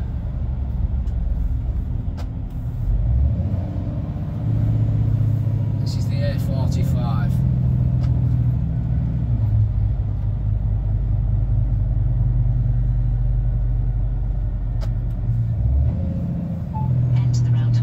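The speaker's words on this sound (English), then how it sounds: "we're going to get all traffic now" Road traffic at a busy roundabout on the A45 in Birmingham, heard from inside a lorry cab as a steady, loud low engine rumble with passing vehicles swelling and fading.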